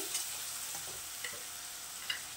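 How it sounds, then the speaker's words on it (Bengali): Ginger and cumin paste sizzles quietly in a frying pan while a spoon stirs it, a soft steady hiss broken by a few light scraping taps. "একটু নাড়াচাড়া করছি"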